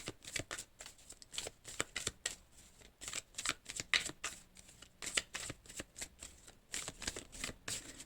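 A deck of cards shuffled for a card reading, giving steady close riffling and snapping bursts in an even rhythm, quiet and alone without talk.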